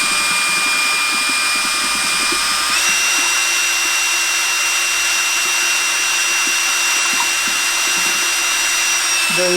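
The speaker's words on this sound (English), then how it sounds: "Or you can use one of these on a power drill." A power drill fitted with a stirring attachment whirls brewing water into a vortex for an extract pale ale, a loud steady motor whine that jumps in pitch as the speed increases, then keeps running without pause.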